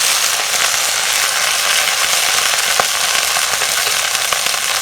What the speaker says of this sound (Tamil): இந்த முருங்கைக்கீரையை நல்லா வதக்கிக்கலாம்.